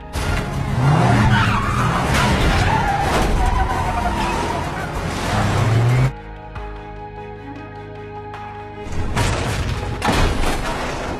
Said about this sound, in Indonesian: Hingga mobil Will oleng dan terhempas